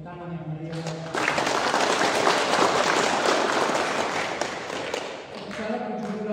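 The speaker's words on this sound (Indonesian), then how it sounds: "mari kita berikan tepuk tangan yang meriah" A wedding congregation applauds the newly married couple at a church wedding Mass, a dense burst of clapping that swells after a spoken invitation and fades after several seconds, with amplified speech before and after.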